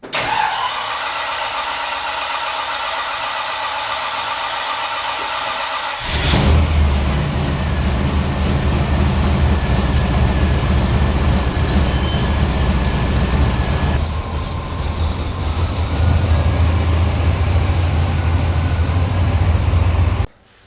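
The engine of a 1963 Ford F100 pickup truck cranks and catches, then settles into a loud, rumbling idle that continues steadily, close by, with no talking.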